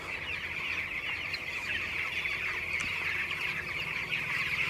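Chickens clucking in a poultry farm, a dense, continuous chatter of many birds with no single call standing out, steady at moderate loudness throughout.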